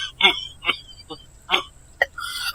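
A man coughs repeatedly in short, sharp, close bursts spaced unevenly, with no speech over them.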